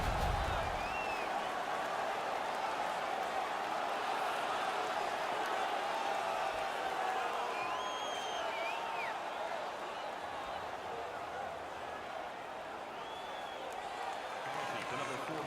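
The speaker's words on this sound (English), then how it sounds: "The crowd is so pumped right now." Ice hockey arena crowd roaring after a fight, a steady loud wall of cheering with scattered whistles and whoops that holds for about fifteen seconds, with commentary over it.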